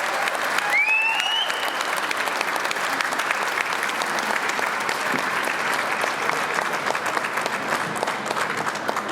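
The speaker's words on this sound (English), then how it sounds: "Let's have a huge round of applause" Loud, sustained audience applause at a charity gala, a dense wash of many clapping hands that holds steady throughout, with a brief whistle or cheer near the start.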